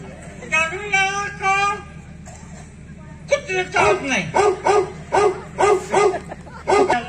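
Several short dog barks and yips in quick bursts, close and fairly loud, with a pause near the middle before the barking picks up again.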